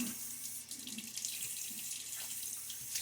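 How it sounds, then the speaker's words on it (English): Water runs from a tap into a sink during a wet shave with a Gillette razor, giving a quiet, steady splashing hiss that continues without a break. "Splash a little bit of water."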